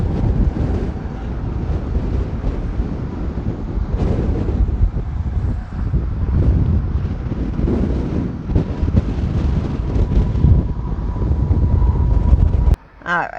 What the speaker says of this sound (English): All right, it's super windy.